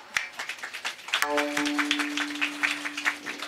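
Audience clapping at a Marathi kirtan devotional gathering, a dense wash of hand claps sustained throughout, with a steady harmonium-like drone entering partway and continuing beneath.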